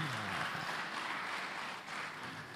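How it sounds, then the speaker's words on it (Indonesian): Church congregation applauding during a sermon, a broad sustained wash of many hands clapping at moderate distance, steady throughout with a slight dip near the end. "Beri tepuk tangan buat Tuhan."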